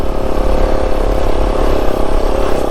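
A 1969 Honda Trail CT90 motorcycle engine runs steadily at close range, a quiet, even idle with a low rumbling pulse and no voices over it.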